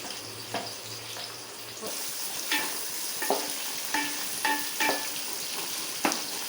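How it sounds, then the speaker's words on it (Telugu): Onions frying in a pan for a Telugu fish curry, a steady background sizzle broken by light scraping stirs and clinks at intervals, with a low hum at the start. "ఆనియన్స్ గోల్డెన్ కలర్ వచ్చేదాకా ఫ్రై చేసుకోవాలి"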